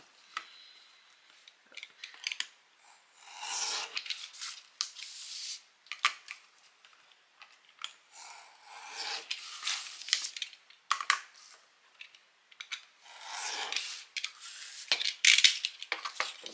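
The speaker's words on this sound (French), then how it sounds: "un petit coup de cutter" A utility knife scores and slices through paper for a handmade recipe album in short, scratchy strokes and crisp rustles, with light handling noises between the cuts, quiet and close.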